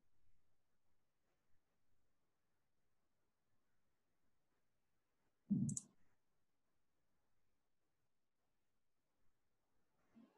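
A single sharp computer mouse click stands alone in near silence, with a faint tick or two at the edges.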